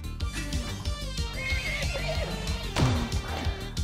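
A horse creature in the video game Sea of Stars gives a loud, wavering neigh and whinny that rises and falls, with faint hoof clops beneath.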